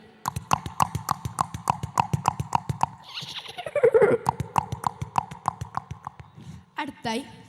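A mimicry artist at a school annual day imitates horse hoofbeats from a Malayalam film: steady rhythmic clip-clop clicks close up, with a vocal neigh in the middle and another short cry near the end.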